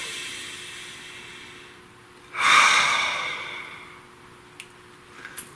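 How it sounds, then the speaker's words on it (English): A single deep breath drawn in close and clear, a soft broad rush that swells and fades over about a second amid quiet room tone, followed by a few faint clicks. "Nice deep breath, please."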